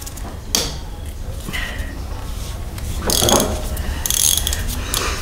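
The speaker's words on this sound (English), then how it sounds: "So I'm just using a ratchet." A hand ratchet works loose a bolt in a cramped engine bay during a vacuum pump delete, giving several bursts of rapid metallic clicking up close, separated by brief pauses.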